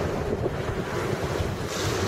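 Waves breaking and surging on a snowy beach at Saint John, New Brunswick, on a windy winter afternoon, with steady wind buffeting the microphone; a continuous, loud roar of surf and gusts, no voices.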